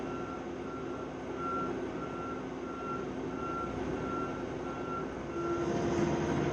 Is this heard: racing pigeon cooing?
no